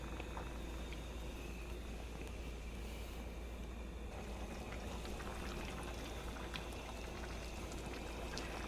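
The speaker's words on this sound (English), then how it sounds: "now it's starting to bubble all the way through" Creole-style rice mixture simmering in a skillet, a steady low bubbling hiss with faint crackle, continuous and close, no voices.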